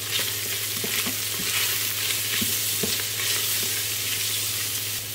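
Garlic frying in a pan gives a steady close sizzle, broken by faint scraping knocks as it is stirred, no speech.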